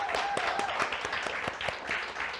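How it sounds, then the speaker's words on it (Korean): A congregation at a Sunday church service claps together in celebration, a dense, steady wash of hand claps filling the hall throughout, with a few sharper individual claps standing out. "네, 박수로 축하하겠습니다."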